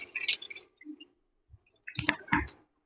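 Water is poured off washed meal maker soya chunks that were soaked in hot water. It comes as short, close splashy bursts separated by a quiet pause.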